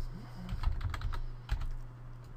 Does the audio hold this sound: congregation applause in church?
no